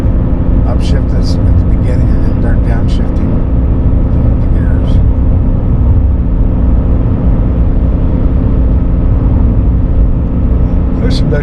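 Cabin of a 2021 GMC 1500 AT4 pickup with a 3.0L inline-six diesel and 10-speed transmission, driving downhill: a loud, steady low engine and road drone runs throughout, with voices talking over it.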